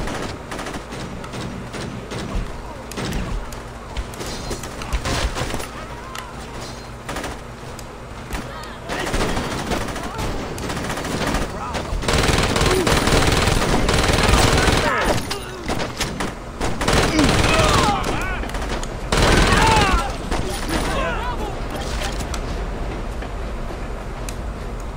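Gunfire rattles through a Saints Row shootout as dense, rapid bursts and volleys, loud and near, swelling in the middle and later stretches, with excited voices talking over it.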